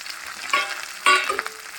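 A tempering of dried red chillies and curry leaves crackles in hot oil for a ridge gourd and telagapindi curry, close sputtering with a few sharp louder pops and bursts over a steady low sizzle, no voices.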